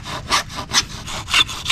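A hand saw cuts metal with steady back-and-forth strokes, each pass a bright rasping burst, about four strokes in quick rhythm, close up.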